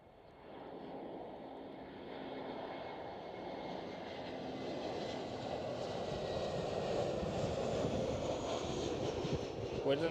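Finnair Airbus A321 at Schiphol Amsterdam, jet engine roar building gradually from quiet to a louder, nearer rumble across the whole stretch.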